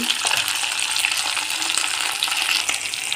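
Curry leaves, small onions, dried red chillies and garlic cloves fry in hot oil in a pan for a chutney, giving a steady, dense, close sizzle with faint stirring scrapes throughout and no voices.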